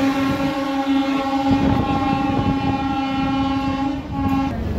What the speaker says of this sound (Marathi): आपली ट्रेन बार्शी रेल्वे स्टेशनवरून निघालेली आहे.